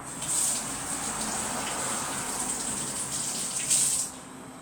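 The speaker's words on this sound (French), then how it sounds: "on va se laver les mains" A steady rush of tap water runs into a sink as hands are washed beneath it, constant and close with a brief louder splash near the end and no talk.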